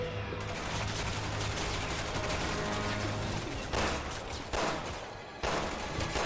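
Enemy gunfire in Resident Evil 6 during Chris's campaign, a sustained fusillade of overlapping shots with a few sharper bursts near the end, moderately distant amid game noise.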